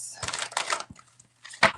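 Tarot cards are shuffled in quick bursts of crisp riffling and flicking, a few short papery flurries separated by brief pauses, close and fairly faint over a low hum.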